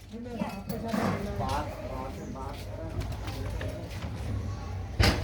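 Pigeons coo in low, throaty murmurs close by, mixed with people talking nearby and a brief bump near the end.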